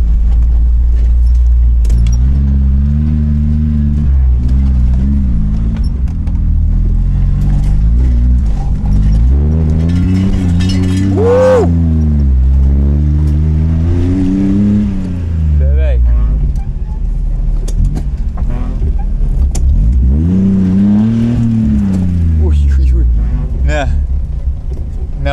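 A Subaru Libero drives through a forest, its engine droning loud and close with wavering rises and falls in pitch as it labours and revs. People talk throughout.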